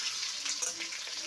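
Chopped onions fry in hot oil with a brief, even hissing sizzle, close and moderately loud.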